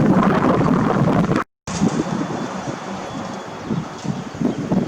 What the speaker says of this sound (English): Here comes the wind, so I don't know if you can hear me.